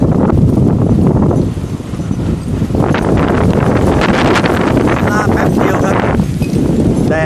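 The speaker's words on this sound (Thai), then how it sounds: "ดูความแรงลมนะครับ" Strong storm wind gusts in without pause as a storm rolls in within minutes and the sun suddenly dims, making a loud, continuous, broadband roar with heavy buffeting against the microphone throughout.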